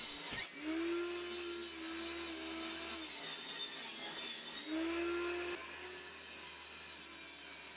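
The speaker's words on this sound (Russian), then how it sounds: "На пиле отрезаю нужную величину." A power saw cuts through larch plywood in two passes, the motor whining at a steady pitch while the blade bites, with a short pause between cuts before it spins down to a quieter hum.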